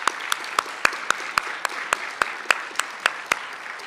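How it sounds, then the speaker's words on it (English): Applause from a banquet audience at an employee of the year event, sharp individual claps ringing out in an even rhythm over softer background clapping. "Let's give them a round of applause."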